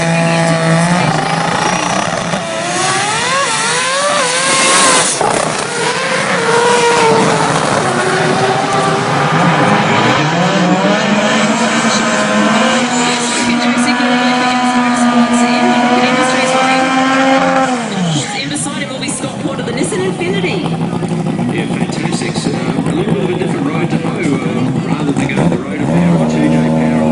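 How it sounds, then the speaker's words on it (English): Two Mazda 6 race cars rev and roll into the staging area at the Winternats at Willowbank 2013, with loud rising and falling engine notes and a commentator talking over them throughout. "Both Mazda 6 cars awesomely prepared into the stage now."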